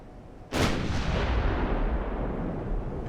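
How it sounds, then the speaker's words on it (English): Eleven-inch guns on a warship fire in the naval video game Ultimate Admiral: Dreadnoughts, producing one sudden, loud, close blast that rolls into a long, heavy rumbling decay. No voices are heard. "And we've got a pretty steady rate of fire here."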